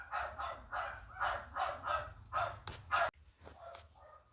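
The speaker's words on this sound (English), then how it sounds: "the dogs are barking around here" Neighborhood dogs barking repeatedly in a steady rhythm of roughly two barks per second, fairly close, with a brief sharp knock and a few quieter yips near the end.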